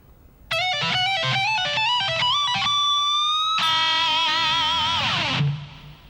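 A lick played on a distorted electric guitar, quick picked notes followed by a long held bend with wide vibrato, loud and close, ending abruptly after about five seconds.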